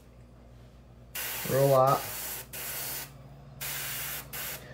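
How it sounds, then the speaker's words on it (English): Bursts of color shift spray paint from a can hiss onto a crackle shad fishing lure, several close, loud sprays with short gaps, one brief phrase spoken over the first burst. "We're just going to spray the color shift"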